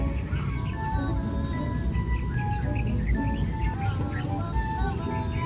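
Birds chirp and call steadily among bignay fruit trees, several overlapping tweets and whistles at moderate distance over a dense, continuous outdoor hum of insects.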